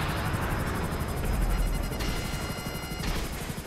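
FH-1 Hunter helicopter in GTA V Online, a steady rotor drone with rapid gunfire and impacts layered over it, fairly loud and continuous.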